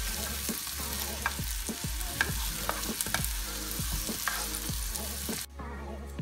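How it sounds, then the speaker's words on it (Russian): Small champignon mushrooms frying in a pan with a steady, moderate sizzle and frequent scraping and stirring clicks, heard close with no talking, until the sound cuts back near the end. "Обжариваем их примерно где-то на протяжении 5 минут"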